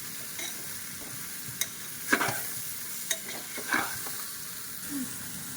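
Chopped brinjal stirred in a frying pan, a soft continuous sizzle with a few scattered scrapes and clicks of the spatula, fairly quiet and close.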